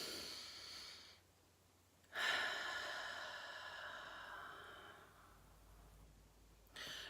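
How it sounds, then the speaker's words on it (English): Deep breathing exercise, one long slow inhale followed by a pause and an extended, softly fading exhale, close and quiet with no talking. "Let's take a breath together."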